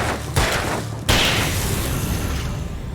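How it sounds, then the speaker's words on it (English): Gunfire from a six-shot gun in a video game: a couple of loud, close booming shots a fraction of a second apart, each leaving a dense rumbling tail. "4 rounds from a 6-shot gun to get rid of that guy"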